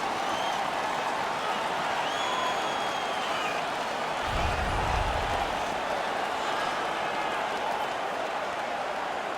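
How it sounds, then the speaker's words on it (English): Hockey arena crowd cheering in the video game NHL 16 during a home game, a continuous, even wash of crowd noise with a brief low thump midway and faint commentary beneath. "The crowd is all over them right now."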